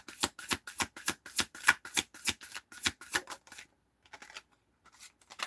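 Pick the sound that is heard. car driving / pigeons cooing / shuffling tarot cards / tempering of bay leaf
shuffling tarot cards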